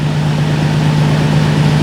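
A Nissan 370Z engine with a single-mass flywheel idles high at a steady 1,000 rpm, a loud, even drone with a constant low hum, close and with no voices.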